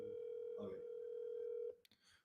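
A telephone line gives a steady, faint electronic tone while a call is placed. The tone holds for over a second before cutting off, followed by a few brief clicks.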